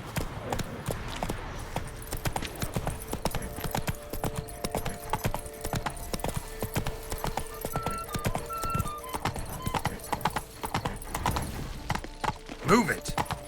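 Horse hooves clip-clop steadily at a gallop in The Witcher 3, a dense rhythmic patter that continues throughout, with game music and occasional talk layered over it.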